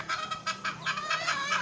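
Hungry backyard chickens cluck and squawk in short repeated bursts, fairly close but quiet, with a few calls overlapping in quick succession.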